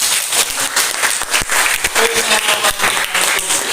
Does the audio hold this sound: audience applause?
yes